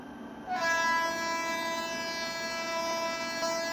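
An Indian train on the Jammu Tawi to Pathankot winter route in Indian Train Simulator sounds a long, loud, sustained horn that starts after a brief pause and holds steady over the rumble of departure.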